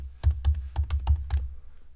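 Half a dozen keystrokes on a computer keyboard, close and crisp, tapped in an uneven rhythm over about a second, alone without talk.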